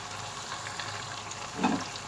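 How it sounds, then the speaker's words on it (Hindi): Yogurt fries with spices in a pan for aloo tahari, a soft, steady sizzle heard close, with a brief louder bubbling burst near the end. "दही को इन मसालों में अच्छी तरह हम भूनेंगे"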